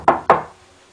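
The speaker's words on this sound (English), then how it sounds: "there was a knock on the door." Two sharp knocks on a wooden door, close and fairly loud, evenly spaced a fraction of a second apart, then quiet.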